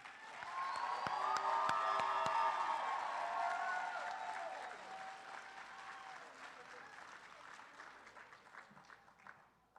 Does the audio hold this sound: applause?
yes